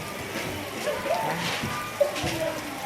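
Rain pours down behind a school near a village entrance, a steady diffuse hiss of falling water with a few faint bird chirps and a brief knock standing out.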